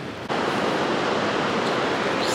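Ocean waves wash onto a San Diego beach in a steady, loud, broadband roar of surf, heard close and alone with no talking.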